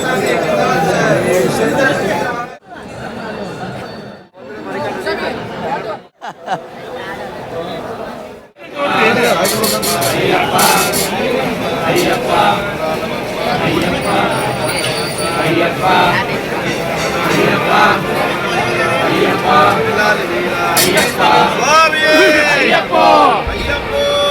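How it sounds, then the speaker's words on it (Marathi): A large crowd of Ayyappa pilgrims at the Sabarimala shrine fills the air with dense, continuous chatter and babble, close and loud, after a few brief quiet gaps at the start. "स्वामी लोकांची गर्दी"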